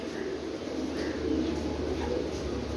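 Pigeons of a flying breed coo steadily at close range, a low continuous murmur of overlapping birds in a loft setting with no talk.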